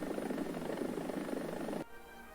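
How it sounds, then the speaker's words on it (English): Swedish attack helicopter in the War Thunder video game, a steady loud rotor and engine roar that drops off abruptly near the end, with no talk. "last but not certainly least for Swedish helicopters is the AHS, which kind of looks like an Apache"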